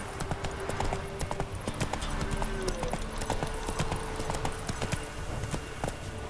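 Roach the horse galloping in The Witcher 3, a quick, steady clip-clop of hooves at close range, with faint voice-like tones in the background.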